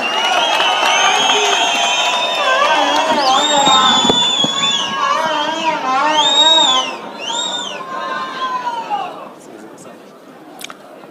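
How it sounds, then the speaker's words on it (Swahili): A crowd at a memorial gathering celebrating the life of Mama Teresa Nyaboke Omoke greets Honourable Sifuna with loud, sustained cheering and high, wavering voices. The noise is close and continuous, then fades toward the end. "Karibisha kwa makofi Mheshimiwa Sifuna"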